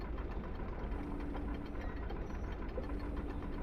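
A model two-cylinder 5x5 engine runs steadily, a continuous low, dense knocking idle close to the microphone with no pauses, holding an even level throughout.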